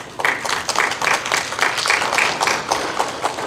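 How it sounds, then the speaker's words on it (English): Applause at a school board meeting for newly elected Board of Education members, a room of hands clapping in a fairly close, steady patter that starts abruptly and carries on for a few seconds. "Could we give them a round of applause?"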